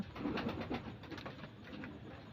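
Pigeons coo softly in a pigeon loft where young birds are kept for sale, a steady series of low rolling coos with a quiet, slightly distant feel and no talking.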